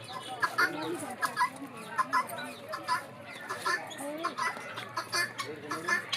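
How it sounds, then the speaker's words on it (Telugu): A guinea fowl at a zoo and park at Kotappakonda calls again and again in short, harsh, clucking bursts, fairly close and moderately loud, against a quiet background. "ఇది గిన్నె కోడి."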